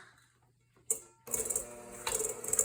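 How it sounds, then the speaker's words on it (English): After a quiet moment, an electric mixer whirs into motion creaming cookie dough with a steady buzzing drone, its pitch rising briefly as it churns. "we're going to use the mixer now, and we're going to cream all this together"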